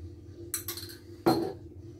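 A spoon clinks against a dish while stirring instant coffee granules into a little water, giving a few sharp scraping taps, close and fairly quiet, with a brief pause between strokes.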